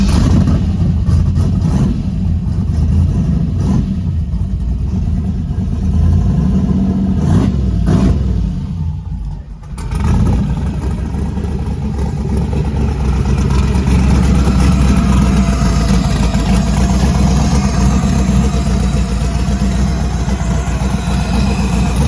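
A twin-turbo LS V8 in a G-body car rumbling loudly and steadily at a rough, lopey idle, with a brief dip partway through before settling back into the low, heavy drone.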